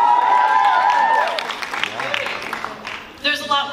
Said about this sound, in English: just hold your applause till the end